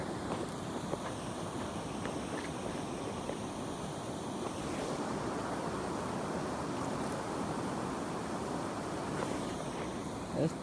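Steady rushing water of the Koshi river, as heard by someone wading across it, forms a constant broadband wash with wind buffeting the microphone throughout.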